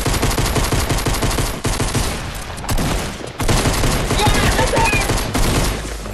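Rapid pistol gunfire in a Fortnite match, a dense run of loud, fast shots with brief pauses, mixed with game effects and some voices over it.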